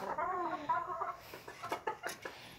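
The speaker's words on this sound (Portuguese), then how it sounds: "Galinha tão produtiva, né, gente? Estão colocando muito ovo." Hens cluck in a poultry coop, a short run of close, warbling calls followed by scattered knocks and light rustling.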